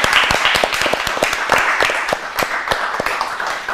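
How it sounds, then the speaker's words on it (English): Studio audience at a Ramadan quiz show clapping for the winning Brampton team, a scattered burst of individual hand claps of moderate loudness that thins slightly toward the end. "give a good claps to the Brampton Dreamer"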